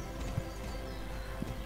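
Game horse hooves clip-clop in Star Stable, a steady run of soft, evenly spaced footfalls at moderate loudness with no one talking over them.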